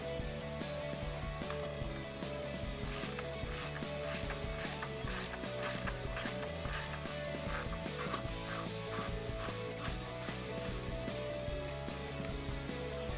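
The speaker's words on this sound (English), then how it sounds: "We are gonna grab our 10mm socket and get those unthreaded." Ratchet and 10mm socket unthreading bolts on a 2018-2020 Ford F150 upper grille, a rapid series of clicking ratchet strokes, faint under background music.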